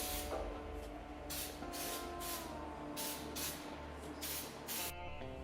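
Spray paint goes on as a light first coat on a Toyota Hilux LN106 part for a snorkel conversion, heard as about eight short, close hissing bursts in quick succession over a low background hum.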